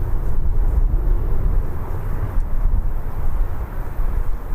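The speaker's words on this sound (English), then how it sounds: "This little bombardier is off to Oslo." A Bombardier aircraft bound for Oslo runs its engines at Birmingham Airport, giving a steady, loud, low rumbling roar with broadband jet hiss that holds fairly even throughout.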